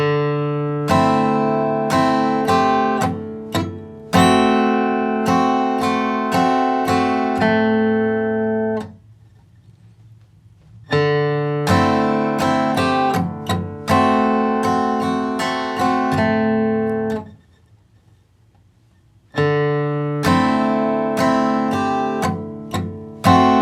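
Acoustic guitar picks a bluegrass melody, bright, quick notes played close and clear, repeated three times with brief pauses between passes.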